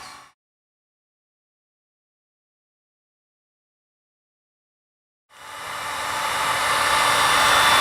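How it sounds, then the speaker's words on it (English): Heat gun blowing onto a mount base, a brief rush cut off at the start, then silence before the steady blowing hiss returns and builds, close and alone. "You take your heat gun and you're just going to heat it for about 5 minutes."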